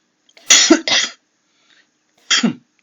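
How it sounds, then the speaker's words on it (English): Three harsh coughs, two close together then one more after a pause, loud and near with no talking. "Excuse me about my coughing. This cough is hampering me for already a week"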